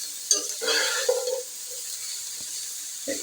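Fried chicken is stirred into chowmein in a hot pan, with a continuous close sizzle and a few scraping spatula strokes and clinks against the pan's metal.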